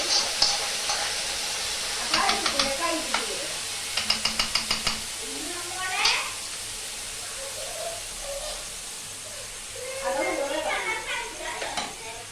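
Cashew pieces fry in ghee for adapradhaman, a low sizzle and hiss broken by scraping stirs and a quick series of clicks, with bursts of bubbling crackle toward the end.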